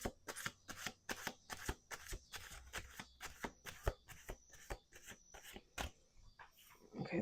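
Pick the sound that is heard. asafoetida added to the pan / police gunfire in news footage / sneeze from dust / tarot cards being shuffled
tarot cards being shuffled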